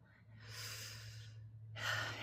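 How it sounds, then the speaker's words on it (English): Slow, soft breaths during a grounding breathing exercise: a long gentle inhale or exhale, a brief pause, then another breath beginning, close and quiet. "It's a grounding breathing exercise. And you imagine on the inhale,"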